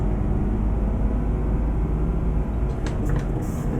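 A Mercedes Travego bus engine accelerating in Euro Truck Simulator 2, a loud continuous low drone that holds steady, with a few short higher clicks and hisses near the end.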